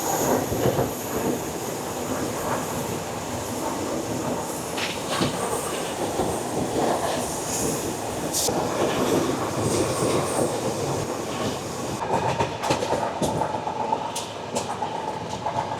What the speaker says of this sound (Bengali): আমাদের ট্রেন বাঁদিকে মোড় নিয়ে নিল নর্থ বেঙ্গলের রুটে